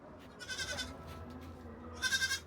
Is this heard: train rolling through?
no